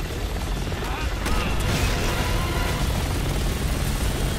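Helicopter in the video game Resident Evil 6, a dense steady rotor and engine roar filling the scene at constant loudness with game action layered over it.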